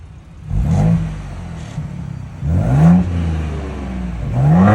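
Ford Bronco Raptor exhaust in quiet mode, revved three times with a close, deep rumbling swell on each blip, settling to a steady idle burble between the revs.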